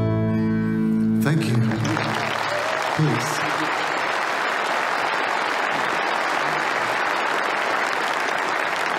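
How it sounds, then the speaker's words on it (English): Audience at a live memorial concert for a national remembrance service bursts into sustained applause as the final music fades, a broad, steady roar of clapping with a few cheers and a brief voice over it. "Ladies and gentlemen, please, another round of applause."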